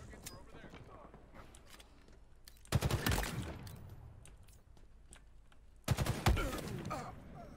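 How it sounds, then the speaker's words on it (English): Gunfire in Halo Infinite comes in two loud rapid bursts, each lasting about a second and a half, over a steady game background; someone talks throughout. "I'm getting shot at."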